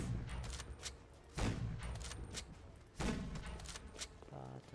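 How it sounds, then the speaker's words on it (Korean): Bursts of gunfire from a Roblox shooting game arrive in three loud volleys, each decaying into a noisy tail, with a short tonal game sound near the end and talk in the background. "저쪽에서 저희 막 쏘고 있어요"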